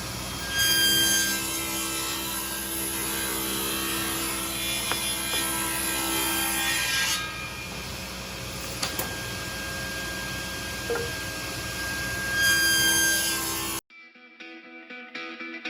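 A table saw blade rips lengthwise through a wooden cornhole board. The cut runs as a steady, loud, rasping whine for most of the span, then the blade cuts off abruptly near the end and quieter shop noise remains.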